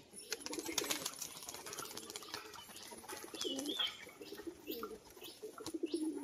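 Pigeons of a Bali crested breed coo and chirp close by, with some wing flapping and rustling in an aviary or loft, and soft background activity throughout.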